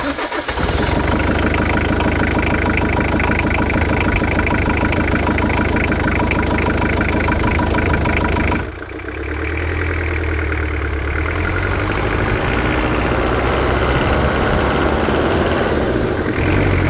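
A 4WD vehicle's engine runs in deep snow and freezing conditions, a loud, steady rumble near at hand with a brief dip partway through before settling back into a continuous idle.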